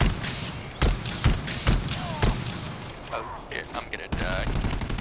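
Rapid bursts of video game gunfire in a tank battle, sharp loud shots cracking in irregular volleys over dense game noise, with players talking over the action.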